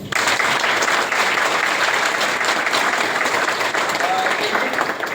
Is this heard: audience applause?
yes